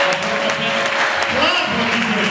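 Congregation applauding in a church, continuous broad clapping that holds at an even level throughout, with a faint tone and murmuring voices underneath.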